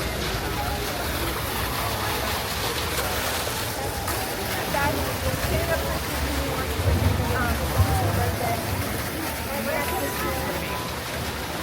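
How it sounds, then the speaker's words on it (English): Water feature in the Big Thunder Mountain queue at Magic Kingdom, a steady rushing splash of falling water that runs throughout, close and fairly loud, with a busy crowd murmuring around it. "I love this water feature in this queue."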